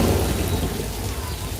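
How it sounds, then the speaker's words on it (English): Simulated rain and thunder on a Universal Studios Hollywood backlot tour set, played through speakers along the set: dense, loud hiss of falling water with a low rumbling undertone, continuous and close. "we got some rain effects going on right now"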